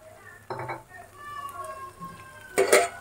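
Spice paste is stirred and fried in oil for Kashmiri aloo dum, with a low sizzle broken by two sharp metal scrapes of a spatula against the pan, and faint talking in between.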